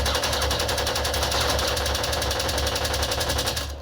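Rifle fire from a PlayStation 5 video game comes as a rapid, continuous burst of automatic shots, loud and dense, running steadily for several seconds before cutting off abruptly.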